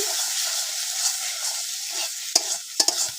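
Watermelon rind bharta sizzles steadily in an oil-filled pan, a loud close frying hiss with a few sharp clinks of a spoon stirring against the pan near the end.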